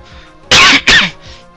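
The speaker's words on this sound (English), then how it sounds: "Sorry for the coughing, my throat's a little dry" Two sharp, loud coughs in quick succession from a person with a dry throat, close to the microphone over faint background game sound.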